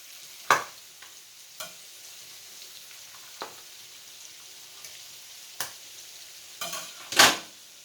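Chitterlings frying in a pan pop and crackle in scattered sharp bursts, a few louder near the end, over a faint steady background sizzle with no voices.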